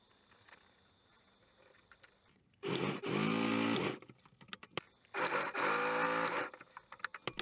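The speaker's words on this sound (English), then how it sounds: "Now the sides are sewn together." Sewing machine stitching the sides of a canvas bag together, two separate bursts of steady whirring, each about a second long, close by with quiet room noise between.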